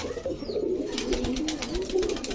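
Pigeons coo softly in a low, continuous burble, close by and alone.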